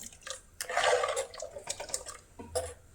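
Water splashes and trickles into a cooking pot being prepared for a mackerel fish curry, with an uneven pour followed by scattered drips and small splashes at close range.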